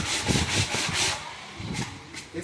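Hand sanding of wooden kitchen cabinets, close rhythmic rubbing strokes in quick bursts, a short pause, then more strokes, with no talk.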